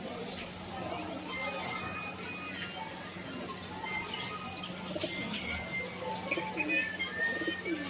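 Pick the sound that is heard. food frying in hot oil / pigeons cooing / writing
pigeons cooing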